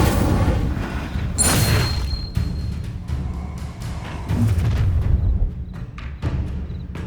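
Incendiary spells explode in Hogwarts Legacy as a series of loud booms and thuds, several blasts in a few seconds, with crackling debris and fiery rumbling between the hits.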